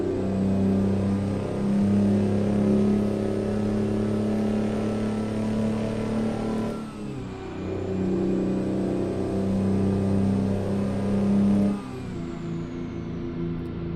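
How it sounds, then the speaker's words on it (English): An old two-stroke Freightliner FLD truck engine in American Truck Simulator drones and revs, its pitch dropping briefly twice as it shifts, a steady buzzing rumble with no talking. "It's a little weird going from a modern 4-stroke engine to an old school 2-stroke."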